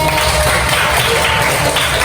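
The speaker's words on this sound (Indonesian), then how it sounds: "Tepuk tangan buat Aurel." Sixth-grade students in an Indonesian classroom clap together in continuous, dense applause, loud and close, filling the whole moment without any speech.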